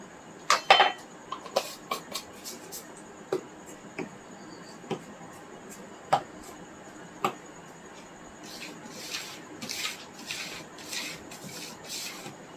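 A spoon clinks and scrapes against a bowl while mixing a fishing bait paste for catla fish, with scattered light taps early on and a busier run of stirring clatter near the end.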